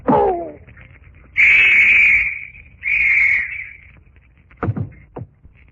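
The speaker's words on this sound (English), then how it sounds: "The whistle will summon others." A shrill whistle blows twice in a radio drama scene, each blast sustained for about a second, followed by a couple of sharp knocks or thumps.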